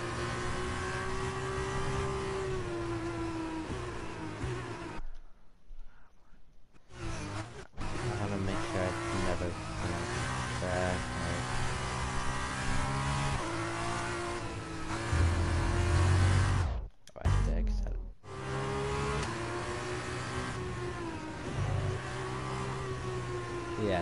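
Formula 2 race cars roar past, their engines buzzing and revving in a continuous high drone that briefly drops out twice, with faint talk mixed underneath.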